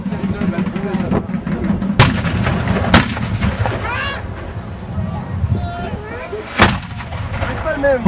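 Artillery cannon shots boom out sharply, three heavy blasts spread apart, each with a rolling echo, over a murmur of people talking nearby, in Martigues, France.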